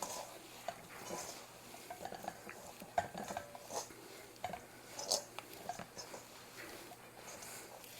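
Ground burger meat for smash burgers being mixed by hand with granulated garlic, with close, soft squelching and clinking of a bowl in irregular bursts, faint and continuous, with a little background noise.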